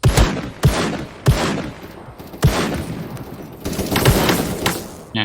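Revolver pistol gunshots in the video game Krunker.io, loud, separate sharp bangs spaced about half a second to a second apart, with quieter game noise and a voice speaking between shots.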